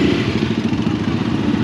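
A motorcycle engine runs close by with a steady, even rumble and a slight clattering texture, heard alone without voices.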